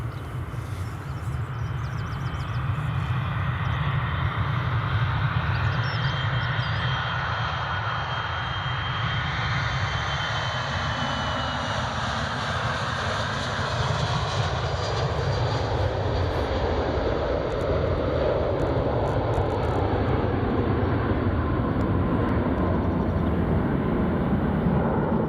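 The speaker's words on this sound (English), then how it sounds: "FedEx 737-400 just departing now." A FedEx Boeing 737-400 departs Edinburgh Airport, its jet engines producing a loud, sustained roar with a slowly sweeping whine as it climbs away, steady and continuous with no talk.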